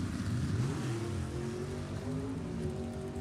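Drag racing cars at an NHRA Division 7 E.T. finals event, a Ford Mustang and a Thunderbird, launch with deep rumbling engines that climb in pitch as they accelerate away, loud and continuous.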